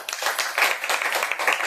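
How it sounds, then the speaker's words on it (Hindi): A church congregation at a Wednesday service claps together in a short, loud burst of rapid, overlapping handclaps. "एक जोर ताली बजाएं।"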